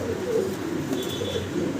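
Pigeons coo steadily and close by, a low continuous murmur from a pair of Andalusian and black checker running pigeons, with no talk over it.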